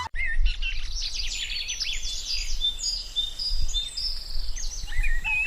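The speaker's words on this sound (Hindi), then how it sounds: "सुबह सुबह गांव में चिड़ियों की चहचहाट और सब्जी मंडी की हलचल शुरू हो चुकी थी।" Birds chirping and calling in a village in the morning, a busy chorus of bright repeated tweets close by over a low rumbling background.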